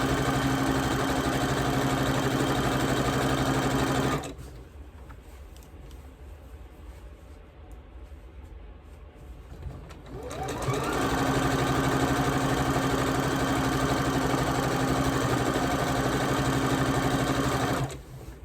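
A sewing machine whirs steadily at close range, stops for several seconds of near silence, then starts up again and runs continuously.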